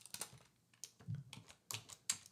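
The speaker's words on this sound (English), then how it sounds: "let's just hit enter here and hit enter here" Keys on a computer keyboard, including the enter key, are pressed in a handful of soft, close clicks spaced unevenly over a couple of seconds, faint and without speech.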